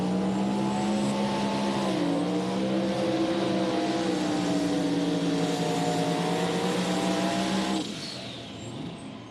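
A supercharged mini rod pulling tractor at a nighttime tractor pull on a dragway roars loudly and steadily, its engine pitch dipping and climbing as it pulls, then cutting off abruptly near the end.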